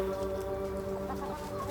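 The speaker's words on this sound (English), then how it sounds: "Hi, chicken." Chicken clucking at close range on a farm in Victoria's Loddon Valley, steady low throaty calls running through the short stretch over a constant background hum.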